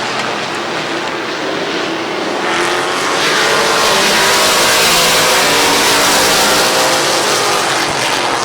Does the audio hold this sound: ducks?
no